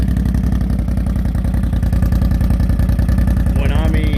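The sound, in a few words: ATV engine revving with aftermarket exhaust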